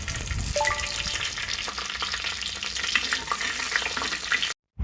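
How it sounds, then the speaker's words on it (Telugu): Bay leaves and green chillies fry in oil in a big pot for mutton biryani, giving a busy, close crackling sizzle with stirring clinks. It cuts off briefly at the end, and no one talks. "2 బిర్యానీ ఆకులు వేసి బాగా వేగనివ్వాలి."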